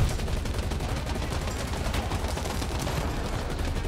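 Dense, continuous gunfire and impact noise as a tank takes hits from several attackers in War Thunder, a loud, steady barrage of rapid shots with no pauses and no talk.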